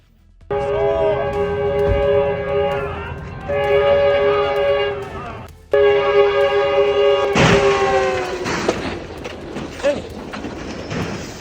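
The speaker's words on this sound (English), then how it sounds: "the train rushes in, crashing through the plain" A train rushes past a level crossing with repeated loud, sustained horn blasts, then a roaring crash and rumble of the passing train close by.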